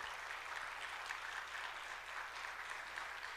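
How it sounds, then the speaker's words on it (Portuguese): A church congregation claps during a live Sunday morning worship service, a steady, even wash of applause heard faintly and at a distance throughout. "Você pode aplaudir aquele que é digno de toda a honra e toda a glória."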